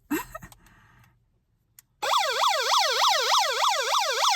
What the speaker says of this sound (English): if I'm in trouble and I need an alarm